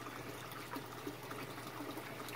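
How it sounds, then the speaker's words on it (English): Water drains from a grow bed into a tub in a backyard aquaponic system, a steady close trickle and splash that runs continuously at an even level, with no voices. "here draining into this tub, and this takes extra flow from the discharge of this bed"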